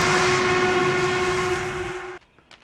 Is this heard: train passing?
yes